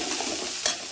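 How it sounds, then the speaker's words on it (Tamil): Small tomatoes frying in a pan for a drumstick-leaf chutney, a continuous close sizzle with one short scrape of a stirring spoon, no talking. "இப்போ இதையே நல்லா வதக்கலாம்."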